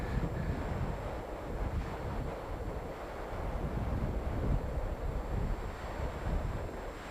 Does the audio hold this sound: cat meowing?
no